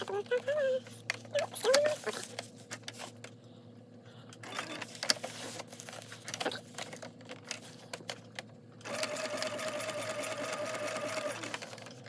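A sewing machine with a walking foot stitches around the outside of a vinyl pouch in bursts of fast mechanical chatter, pausing between runs, then running steadily near the end; a voice talks in between.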